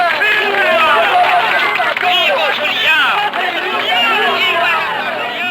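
A large crowd of Brazilian workers cheers in agreement, a loud, dense mass of shouting voices that carries on without break from start to finish.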